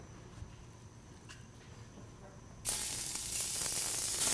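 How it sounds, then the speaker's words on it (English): Beef hitting a hot pan in a kitchen, a sudden loud burst of sizzling that starts partway through and continues as a steady bright hiss, close up after a quieter stretch. "That's the sizzling sound."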